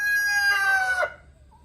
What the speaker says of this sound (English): hens is a rooster, as back here, making a lot of noise